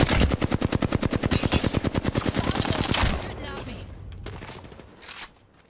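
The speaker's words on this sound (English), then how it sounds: "I'm under fire" Rapid automatic gunfire in Apex Legends rattles out in a dense, steady stream of close, loud shots for about three seconds, then gives way to quieter game sounds and a few scattered bursts.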